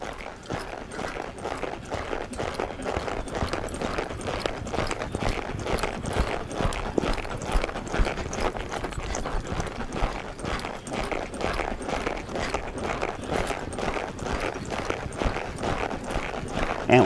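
Hooves of a gaited horse being ridden western pleasure style clip-clop in a steady, even rhythm throughout, close and continuous with no talking.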